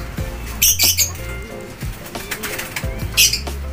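A racing pigeon arriving at its loft makes two loud bursts of wing flapping close by, with softer rustling and faint bird calls between them.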